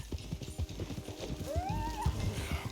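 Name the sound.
horse stallion whinnying and hooves clopping, from a video game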